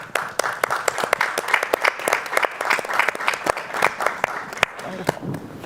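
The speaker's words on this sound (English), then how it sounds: "we applaud you." Audience applause following a speech at a panel discussion on Latin American diasporas: dense, steady clapping from a crowd across the whole span, fairly close and loud, with no talking over it.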